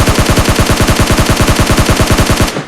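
Rapid automatic gunfire from PUBG Mobile Lite, a loud, steady stream of evenly spaced shots rattling on for over two seconds before cutting off abruptly.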